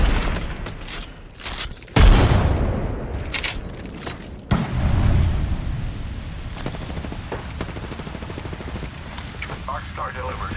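Grenade blast in the Apex Legends battle royale, a sharp loud boom followed by a second heavy explosion amid ongoing gunfire and a brief voice line.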